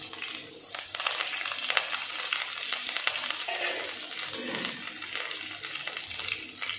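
Chopped onion, two green chilies and curry leaves sizzle steadily in a hot oiled pan, a close, continuous crackling hiss with faint stirring scrapes and no voices.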